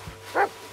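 A single short dog bark in the video game Blair Witch, a brief, clear yelp standing alone in a quiet scene.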